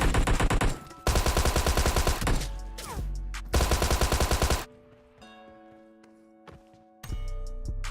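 Close-range automatic gunfire rattles in rapid bursts during PUBG Mobile hip-fire combat. The loud volleys are separated by short pauses, and quieter game sounds and clicks fill the gaps.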